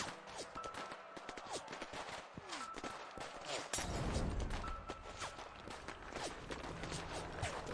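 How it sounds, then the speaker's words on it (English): A rapid, chaotic barrage of gunshots mixed with sharp crashing and breaking impacts of smashing pottery, dense and loud throughout, with a heavy burst near the middle. "the sounds of gunfire, smashing pottery, and screams rush together"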